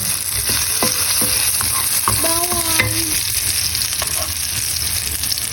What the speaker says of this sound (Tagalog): Lagyan natin ang bawang.